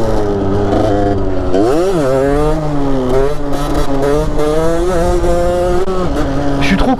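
A motorcycle engine revs loud and close during a wheelie, its pitch climbing and dipping as the throttle is worked, with wind noise underneath.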